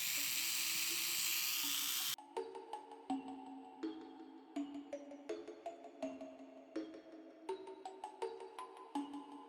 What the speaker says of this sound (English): will first drill a hole into the eye base with my Dremel